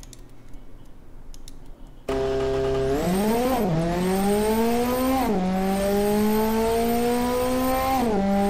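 Car accelerating in the Automation video game, a build with soft suspension tuning that does 0 to 100 in 5.3 seconds. After a quiet start, a loud engine note kicks in and climbs steadily in pitch, dropping back at each of several gear shifts.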